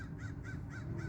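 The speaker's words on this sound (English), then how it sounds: "You heard the crow in the background," A crow caws several times in a regular rhythm, somewhat distant, over a steady low background rumble with no one speaking.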